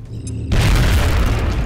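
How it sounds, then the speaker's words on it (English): A grenade blast in the 2012 strategy game XCOM: Enemy Unknown lands as a single loud, deep boom after a quiet half-second of faint ambient tones, then rumbles and decays over the following second. "I think we grenade and guarantee things for now."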